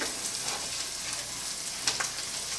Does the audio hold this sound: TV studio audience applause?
no